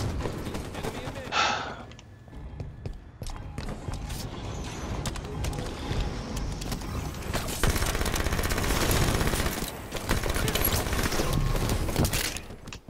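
Sustained automatic gunfire and weapon mechanisms in the Halo 5 Guardians multiplayer shooter, dense continuous volleys filling the scene with brief lulls, loud and close, with some voice activity mixed in.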